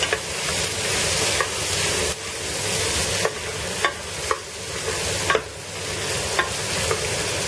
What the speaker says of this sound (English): I've taken 4 to 5 cashews and about 15 raisins. Give them a nice mix.